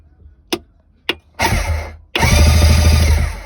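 A previously frozen starter motor on an Ultra 150 being rebuilt frees up and turns over: two short clicks, then a brief grinding crank, followed by a loud sustained whirring run close up.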